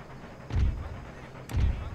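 Gunfire and artillery in the video game Empire Total War, two heavy low booms about a second apart, each a loud thump that rolls off over a dull battlefield background.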